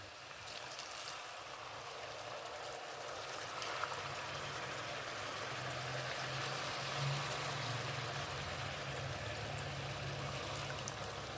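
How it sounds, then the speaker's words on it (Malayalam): Coconut milk pours steadily into a simmering pot of duck curry, giving a continuous soft liquid rush with faint bubbling, close and fairly even throughout with no voices. "നമ്മുടെ തേങ്ങാപ്പാലങ്ങോട്ട് അങ്ങോട്ട് ഒഴിക്കുന്നുണ്ട്"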